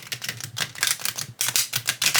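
A brand-new, stiff oracle card deck is riffled and shuffled by hand, giving rapid papery flutters in several quick bursts with brief pauses between them, close and fairly loud.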